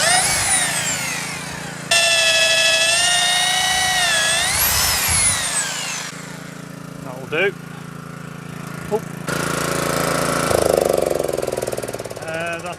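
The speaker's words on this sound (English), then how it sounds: "Once again you can see Phil has to exert great pressure on the drill to force it into the oak." A power drill bores into oak under heavy pressure, whining loudly and rising and falling in pitch, then stops. After it, someone speaks briefly and a few clicks and knocks follow before a lower mechanical hum.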